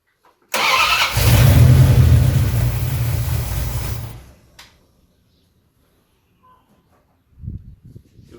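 A 1973 Dodge Charger with a 361 big-block V8 cranks and catches, roaring loudly for about three seconds before dying away, followed by near silence and a brief low rumble near the end.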